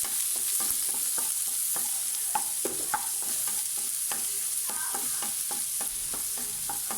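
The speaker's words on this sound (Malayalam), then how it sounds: "ഇനി ഇതിലേക്ക് നമ്മൾ അരിഞ്ഞു വെച്ചിരിക്കുന്ന ഉള്ളി ഇട്ട് കൊടുക്കാം. ഈ ഉള്ളി ചെറുതായിട്ടൊന്ന് വഴറ്റണം" Chopped onions sauté in a pan for a broccoli egg thoran, a constant bright sizzle under a quick, steady series of spatula scrapes and taps, close up and with no voices.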